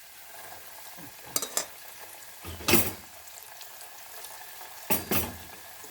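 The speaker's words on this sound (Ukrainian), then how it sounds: "Обсмажую всі стріпси" Strips of small chicken fillet fry in a pan, a faint steady sizzle broken by a few short bursts of stirring and scraping, with no talking.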